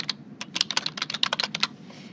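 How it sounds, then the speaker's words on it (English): Typing on a computer keyboard produces a quick, close run of light clicking keystrokes in an irregular rhythm for about two seconds, with no speech. "I'm just going to start typing."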